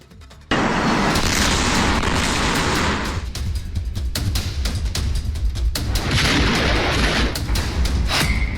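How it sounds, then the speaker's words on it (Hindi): Illegal firecracker factory blast in Harda, Madhya Pradesh: a sudden loud boom erupts after brief quiet, followed by sustained roaring rumble with repeated sharp cracks and pops of bursting fireworks throughout. "मध्य प्रदेश में हरदा की अवैध पटाखा फैक्ट्री में दिल दहला कर रख देने वाले विस्फोट का ये वीडियो"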